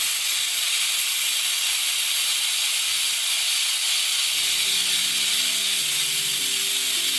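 A pressure cooker on the stove releases steam while mutton cooks inside, giving a steady, loud hiss throughout with no one talking, and a low tonal whistle-like hum rises beneath it in the later part.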